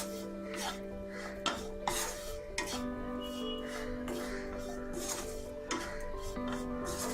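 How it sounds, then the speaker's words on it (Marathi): A spoon scrapes and stirs torn chapati pieces with salt in a pan, rasping and rubbing steadily with a few sharper knocks against the metal, close by and alone. "चपाती घालूया, मीठ, मिक्स करूया"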